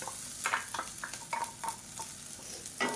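Ground coconut, green chili and ginger stir-fried in oil, a faint sizzle broken by repeated scraping and clinking of a spoon against the pan.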